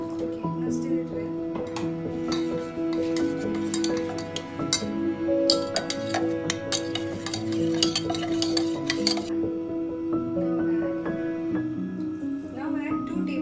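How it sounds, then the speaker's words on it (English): Custard powder being stirred into boiled milk gives repeated clinks and scrapes of a utensil against a pot. They run steadily under continuous nearby talking and background music. "And stir it well with 1/4 cup of boiled milk. Okay, now stir it well."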